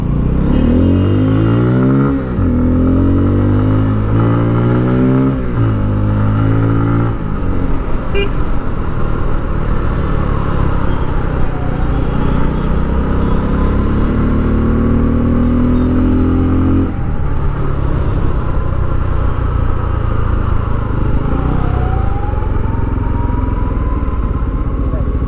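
Bajaj Pulsar 250 motorcycle riding on a road, its engine note rising and falling through steady gear changes, loud and continuous with wind noise, and a horn toot partway through.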